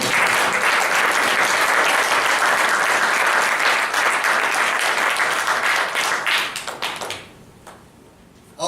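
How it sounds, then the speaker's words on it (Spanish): A church congregation claps loudly and continuously for several seconds during a Sunday sermon, then the applause fades away into quiet. "Dele fuerte palmas a nuestro Dios."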